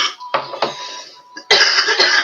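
A few sharp coughs close to the microphone, separated by short pauses, ending with a louder, longer burst of coughing.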